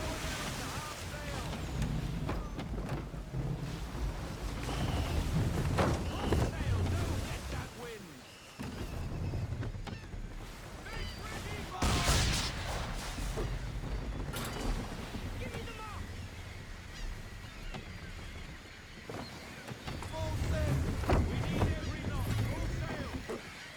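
A sailing ship in Assassin's Creed 3 runs at full sail, with a steady rush of wind and water that swells and fades over the whole stretch. Voices talk over it throughout.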